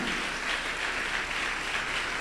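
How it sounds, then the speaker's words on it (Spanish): A church congregation claps for the Lord during a sermon, a sustained, full round of applause at steady volume throughout. "Dale fuerte, sí, el aplauso al Señor."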